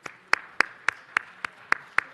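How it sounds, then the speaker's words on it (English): Clapping at a city council meeting: eight crisp, evenly spaced claps close by, like a single person keeping a steady beat, with no crowd behind them. "if we could all join and give them a round of applause"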